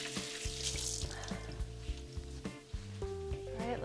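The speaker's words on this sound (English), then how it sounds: "the fat from the sausage will also create flavor. Oh yeah, look at that sizzle." Sausage frying in a pan gives a steady, close crackling sizzle with small pops and spatters, heard alone without talk.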